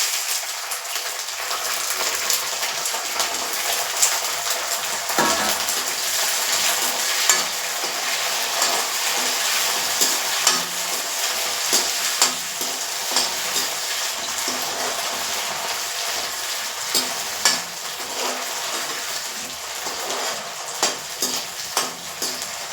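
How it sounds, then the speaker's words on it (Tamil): Continuous loud sizzling of green chillies frying in hot oil, with occasional crackles and pops throughout. "இந்த பச்சை மிளகாய் எண்ணெயிலே வதங்கணும்"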